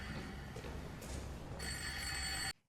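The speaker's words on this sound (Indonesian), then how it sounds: "tiba-tiba ada telepon berdering" A telephone rings with a steady, shrill electronic bell tone against a low background hum, the ring growing brighter before cutting off abruptly near the end.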